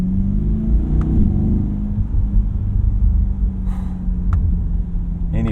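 A 2020 Chevrolet Corvette Stingray's engine gives a loud, deep, steady rumble close by as it comes down into second gear, the drone holding low throughout with a couple of brief sharp clicks and no talking.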